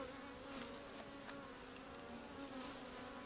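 Honey bees hum steadily around a backyard hive being fed 1-to-1 sugar water, a continuous close drone with occasional louder passes as individual bees fly near.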